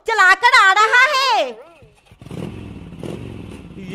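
A motorbike ridden by a monkey in a comedy skit rumbles past with a rough, steady engine drone and some clatter, following a loud stretch of voices talking.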